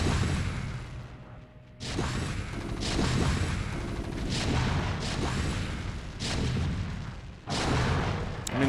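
StarCraft: Brood War siege tanks fire in a match on Fighting Spirit, a run of heavy booming shots with whooshing blasts roughly every second, repeated over a dense, steady game-sound bed.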